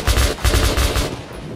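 Gunfire in the video game Metro 2033 Redux: loud, close bursts of rapid automatic shots in three or four quick clusters, fading into a short echoing tail, with no talking.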